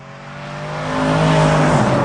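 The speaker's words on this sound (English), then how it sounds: "The sound of the engine, somebody who hears that has to know, wow, that was an AMG." A Mercedes-AMG car engine revs up close and loud, its throaty tone climbing steadily in pitch and volume over about two seconds, with no talking.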